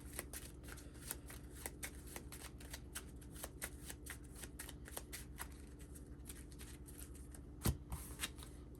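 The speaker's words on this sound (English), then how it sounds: "got to shuffle the deck" A deck of playing cards being shuffled during a tabletop card game, a steady run of soft riffling flicks close by and fairly quiet, with one sharper snap near the end and no voices.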